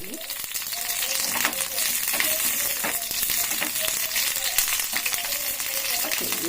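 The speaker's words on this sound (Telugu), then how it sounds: "ఇది మంచిగా ఫ్రై చేసుకోవాలండి. ఆయిల్ వేసుకొని ఫ్రై చేసుకోవాలి." Green chillies fry in hot oil with a steady, dense crackling sizzle, close and continuous throughout, with occasional light clinks.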